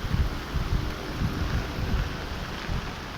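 Typhoon wind and heavy rain make a steady, dense roar with low rumbling gusts, loud and unbroken throughout.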